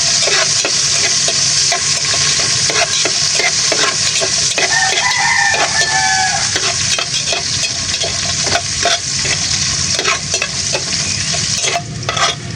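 Ginger sizzles loudly in hot oil in a pan, with a steady frying hiss and repeated scraping stirs throughout. A rooster crows in the background.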